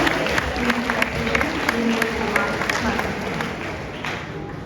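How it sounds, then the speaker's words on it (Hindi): Audience in a Delhi University college auditorium applauds at an awards ceremony, steady crowd clapping with crisp individual claps, while a voice talks underneath. "तो मेरे पास जोरदार तालियां हो जाए"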